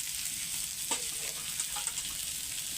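Pointed gourd, potato and paneer sauté in a pan with little oil, giving a steady close sizzle with a few soft stirring scrapes and no voices.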